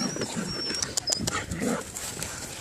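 A rescued puppy from a hoarding case whimpers and yelps in short, high, broken cries, close by, amid soft handling noise.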